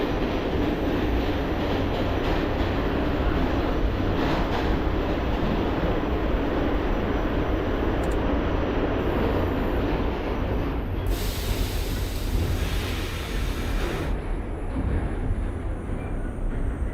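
A simulated subway train on the Rockaways line toward Far Rockaway pulls out with a continuous low rumble and wheel noise, steady and fairly loud, with no voices over it.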